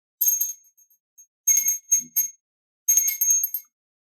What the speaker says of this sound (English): I'm going to ring a bell here and just kind of clear it.